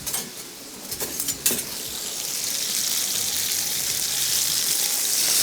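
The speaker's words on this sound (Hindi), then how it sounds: "हल्का हल्का नमक छिड़का, इस साइड को थोड़ा पकाया, फ्राई किया, उसके बाद इसको हम करेंगे टर्न" Seasoned steak sizzling and frying in a hot pan on a stove, a steady hiss that swells over several seconds, with a few light clinks of utensils and pan movement near the start.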